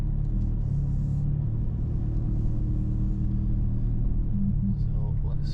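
Steady low engine rumble of an Audi TT Black Edition being driven slowly round, a constant close drone with a slight rise near the end.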